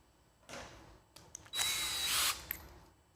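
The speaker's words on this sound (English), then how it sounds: "What size drill bit are you using?" A power drill bores a 1/8 inch hole for a DIY plant hanger, with short whirring bursts followed by a louder sustained run, then a click as it stops, close to the microphone.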